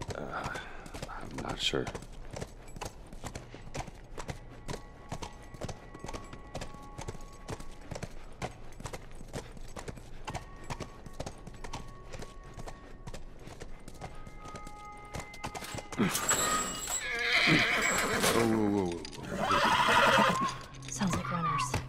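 A horse clip-clops along at a steady walk with loud neighs and whinnies in the game The Last of Us, the hoof beats regular and close while people talk briefly over them.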